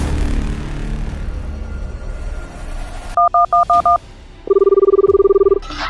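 A quick run of five short telephone keypad beeps, then a longer steady dial tone, over faint background noise.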